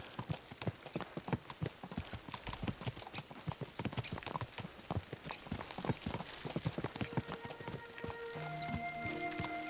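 Rapid clip-clop of several horses' hooves in the video game Kingdom Come: Deliverance II, steady and close, with an occasional whinny and a musical tone joining near the end.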